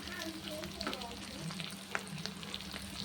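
Whole garlic cloves sizzle and spit in hot oil for a duck egg and small potato curry, a close crackling fry with occasional stirring.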